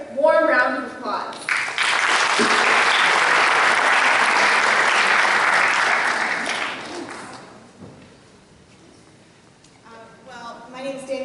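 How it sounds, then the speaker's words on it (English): Applause from the audience at an Eid festival in Palo Alto greets a woman called up to speak, a loud sustained burst that fades after about six seconds, with voices talking before and after. "please give her a warm round of applause"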